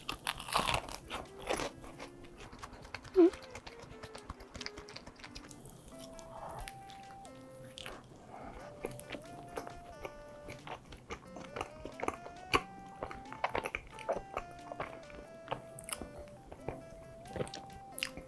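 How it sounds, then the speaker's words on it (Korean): Someone bites and chews a crunchy frozen-then-toasted rice cake up close, faint crackly crunches and soft chewing, with quiet background music beneath. "이거 얼렸다가 구웠거든요, 살짝. 진짜 맛있어요. 바삭하고 아이스크림 같고."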